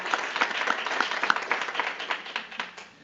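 Audience at a utility commission meeting applauding, a moderate crowd of hand claps at medium distance, steady at first and gradually thinning out toward the end.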